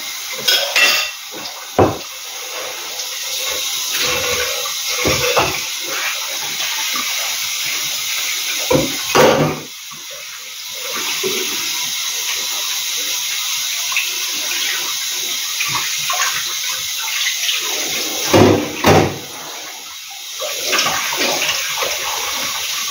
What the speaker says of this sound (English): So I'll wash the dish.